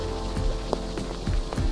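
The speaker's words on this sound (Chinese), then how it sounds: "下雨了！" Rain patters down steadily on a coral-rock shoreline in the Virgin Islands, a broad hiss with scattered drops and splashes landing close by.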